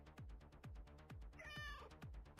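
A single faint cat meow rises in the middle of a run of rhythmic, evenly spaced thumping pulses, all quiet and distant.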